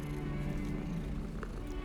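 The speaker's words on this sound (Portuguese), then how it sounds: "Ela está a ronronar, ela gosta de festinhas." A cat purrs in the Hogwarts Legacy video game, a soft, steady low rumble running throughout over faint background game ambience.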